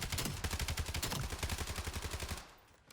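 Rapid automatic gunfire rattles at a video game firing range, a fast regular burst of loud shots that continues for over two seconds before cutting off and fading.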